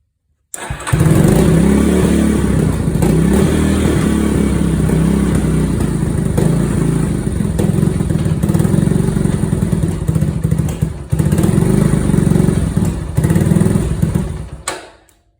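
A Yamaha Warrior motorcycle engine in need of carburetor work runs rough and loud, revving unevenly with clattering for over ten seconds before it stalls and cuts out abruptly near the end.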